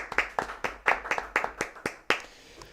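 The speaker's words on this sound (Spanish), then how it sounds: "Un aplauso para JACKSPEKTRA" A few people clapping at an interview, around a dozen distinct sharp hand claps in a loose rhythm, close and fairly quiet, ending with one final clap.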